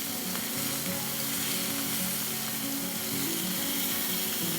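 Axis deer loin sautéing in a hot pan, a dense, close sizzle with a steady bright frying hiss and no pauses.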